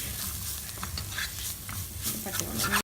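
Onions and spice powders sautéing in a frying pan while making potato bonda, a steady close sizzle with stirring scrapes running throughout, no talking.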